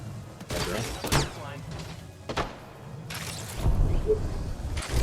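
Gunfire in a shooter game, a few loud sharp shots and thumping bursts scattered across the clip, mixed with almost constant chatter from players talking over it.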